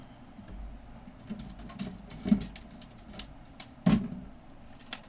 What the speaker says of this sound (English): I'm going to need a paper cutter.